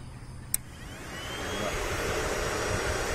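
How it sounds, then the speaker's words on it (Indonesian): Cooling fan on a Vulcan 500 being switched on: a sharp click, then a steady rushing whir that grows slightly louder and holds. "Sekarang saya dah on. Ni dalam on. Saya onkan kipas."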